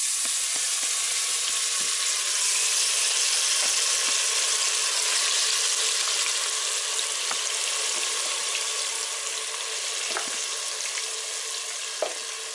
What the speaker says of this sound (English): we're going to add it to our hot sauteed oil